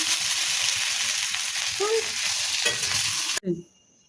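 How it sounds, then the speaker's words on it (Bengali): Fish fries in a pan with a dense, steady sizzle and some stirring scrapes, under a faint voice, then the sound cuts off abruptly near the end. "এই যে আমি মাছ ভাজি করেছি"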